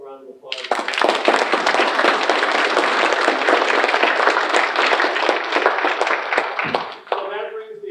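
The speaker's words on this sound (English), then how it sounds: "Let's give them a round of applause." A crowd at a graduation ceremony bursts into loud, sustained applause lasting several seconds before fading, with a voice briefly audible at the start and end.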